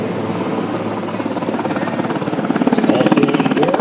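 A military helicopter hovers and turns at an air show, its rotor chop a loud steady pulsing that grows slightly stronger toward the end, with a rising turbine whine underneath.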